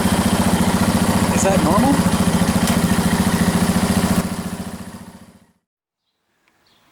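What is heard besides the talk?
KTM 690 Enduro motorcycle engine running in first gear, clutch in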